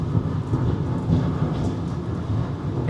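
Thunder from a supercell storm in Oklahoma, a continuous low rumble rolling on for several seconds with faint rain in the background, no voices.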